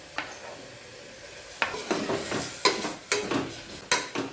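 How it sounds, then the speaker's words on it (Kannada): Chopped tomatoes fry in a pan for misal pav, with a soft steady sizzle broken by several sharp scrapes and clinks of a spoon stirring against the pan. "ಟೊಮೆಟೊನ ಹಾಕಿ ಅದು ಮೆತ್ತಗಾಗೋವರೆಗೂ ಫ್ರೈ ಮಾಡ್ಕೋಬೇಕು"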